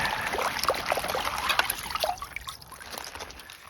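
Icy water runs and splashes outdoors while produce is rinsed by hand, a close, bubbly trickle that is strongest early and gradually eases and thins out.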